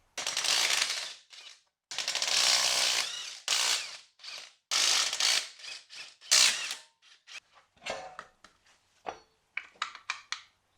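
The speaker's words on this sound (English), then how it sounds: "Pull the lug nuts off and get this wheel off." A ratchet is taking the lug nuts off a Jeep Wrangler wheel, giving loud, close bursts of rapid clicking with short pauses between them, then a run of quicker, shorter rattles toward the end.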